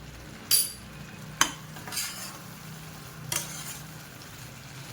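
Village carrots for gajar halwa, cooked in plenty of ghee with cardamom powder, are sautéed in a pan: soft sizzling runs beneath a few distinct spoon scrapes and stirring strokes, close and fairly quiet.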